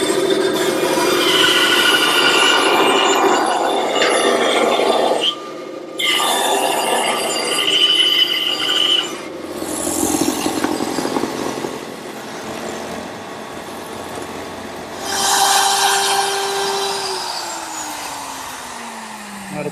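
Bandsaw cutting a circle in wood on a circle-cutting jig, a steady loud whining buzz throughout with brief dips in tone as the blade works through the board, no voices.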